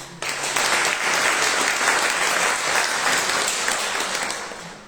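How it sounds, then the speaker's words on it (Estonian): Applause from the audience at a ninth-grade graduation ceremony, a full, steady burst of clapping from a sizable crowd that starts abruptly and tapers off at the end. "aplaus."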